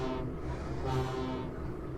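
Train engine rumbles and hums steadily in a Thomas and Friends video game, a continuous mechanical drone with no talking.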